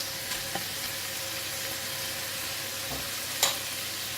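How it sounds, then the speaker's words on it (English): Carrot frying in a stir-fry pan with a little water, a steady close sizzling hiss broken by a few light taps and one clear clack of a utensil against the pan. "Adding in the carrot"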